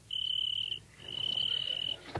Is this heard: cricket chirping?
yes